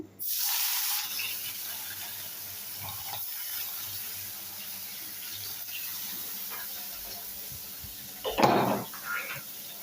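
Pieces of katla fish, washed and rubbed with salt and turmeric, frying in hot oil, giving a steady close sizzling hiss that swells briefly as more fish goes into the pan.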